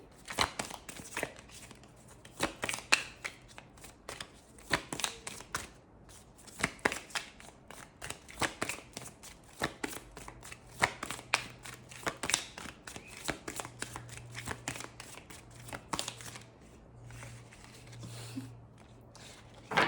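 Rapid riffling of a deck of cards, repeated in quick bursts with short pauses, close and crisp, no talking.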